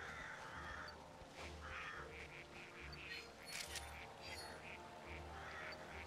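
Bird calls in New Pokemon Snap: several short quacking, cawing cries repeat over a steady ambient bed, moderately loud, with a voice briefly underneath.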